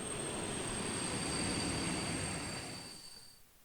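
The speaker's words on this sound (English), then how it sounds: "Say, how often do the trains tend to stop at this station? Next one should be stopping right now." A train in the video game Dialtown pulls into a station and comes to a stop: a broad, rolling rumble with a thin high whine above it, steady at first and then fading away toward the end.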